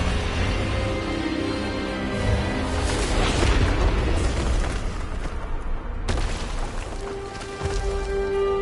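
The Expelliarmus spell fires in Hogwarts Legacy, a booming magical blast with crackling bursts and a rumbling tail, followed by a sharp second impact and lingering hum.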